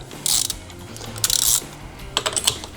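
A ratchet tightens a bolt on a Harley-Davidson Sportster, three short bursts of rapid clicking close by, separated by brief pauses.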